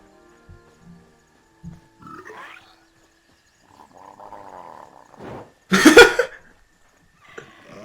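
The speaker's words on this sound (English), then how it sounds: "I saw a frog." In a swamp in the video game Hytale, a frog gives a series of deep, throaty croaks and grunts, ending in one loud, rasping burst against a quiet background.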